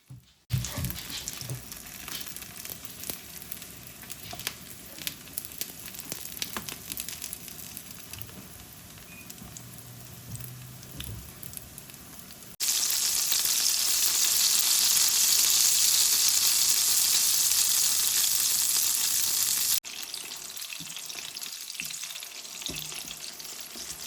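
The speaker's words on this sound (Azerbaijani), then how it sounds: "Kızan yağa badımcanları düzüb üzərinə duz tökürəm." Steady sizzling of salted eggplant slices frying in hot oil, growing louder and hissier in the middle stretch before easing back, with no talking.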